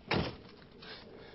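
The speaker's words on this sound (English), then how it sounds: "the door not only opens normally" A crash-tested Smart car's door opens with a sharp, close mechanical clunk at the start, followed by a quieter rattling movement that trails off.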